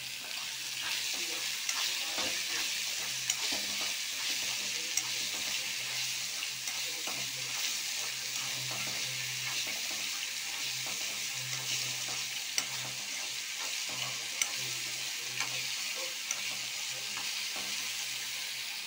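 Ingredients for mango pachadi sizzle steadily in hot oil while a spoon stirs and scrapes the pan, a constant close frying hiss with light irregular clicks throughout.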